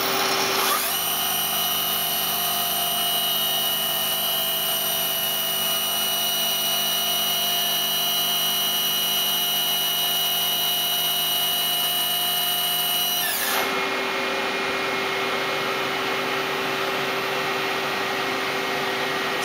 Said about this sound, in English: See the turning tools coming down, sub-spindle moving in,